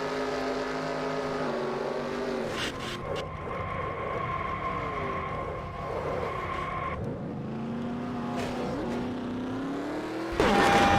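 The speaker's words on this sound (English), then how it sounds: "you can also just hear the impact through the onboard as Chase Briscoe drills Riley Herbst from behind" Onboard sound from a NASCAR Cup race car at the Daytona 500, with steady engine drone and harmonic whine throughout, a few sharp broadband jolts from the rear-end impact, and a louder burst near the end.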